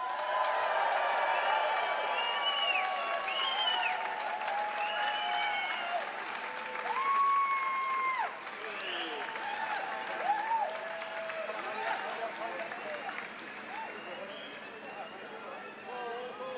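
An outdoor crowd in London applauds and cheers John Pilger, with steady clapping, whistles and shouts rising and falling, and voices calling out over the din as the applause gradually thins.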